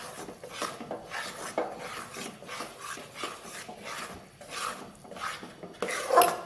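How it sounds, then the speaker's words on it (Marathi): Besan (gram flour) with ghee is stirred and roasted in a heavy-bottomed kadhai, a soft continuous scraping and rasping of a spoon against the pan in uneven strokes, close and fairly quiet with no talking. "कोणत्याही जाड बुडाच्या कढईमध्ये तुम्ही हे बेसन भाजायचं आहे आपल्याला"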